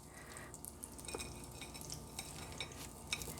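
A cooked egg is folded over in a hot pan during brunch prep, with a soft steady sizzle and light scraping of a utensil against the pan, quiet and close, with no talk.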